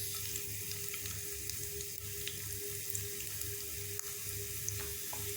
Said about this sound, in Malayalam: ഇനി നമുക്കിതിലേക്ക് ഒരു 6 അല്ലി വെളുത്തുള്ളി ചെറുതായി അരിഞ്ഞത് ഇട്ട് കൊടുക്കാം